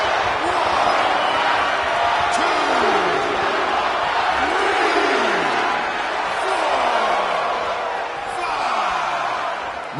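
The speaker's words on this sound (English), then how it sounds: "Thunderous applause for these competitors." A roaring arena crowd in a WWE 2K26 wrestling video game match in Tokyo, Japan, a dense continuous wall of applause and cheering with a commentator's voice rising and falling over it.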